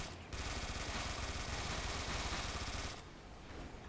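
Sustained rapid gunfire from an enemy in the Dimension Breaker video game, a Neptunia fan game, roars loud and dense for almost three seconds before cutting off, leaving a softer wash of noise behind.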